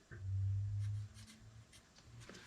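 Pen marking luxury vinyl floor planks during installation: a short scratchy stroke heard close, followed by faint rubbing and light handling noises, with a low hum underneath.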